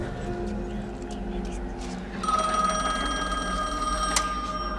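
A telephone starts ringing partway through, a bright electronic tone that cuts in over a low humming, eerie background and keeps going steadily to the end.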